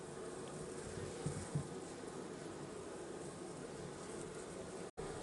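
Honeybees buzz around a hive in a continuous, dense, faint hum, steady throughout with no talk, broken only by a couple of soft bumps and a brief dropout near the end.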